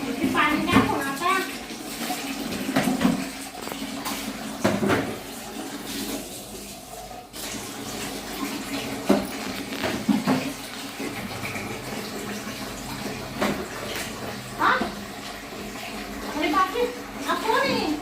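Water is poured and splashed into a toilet while it is scrubbed clean, with irregular gushes and sloshing at close range, with people talking throughout.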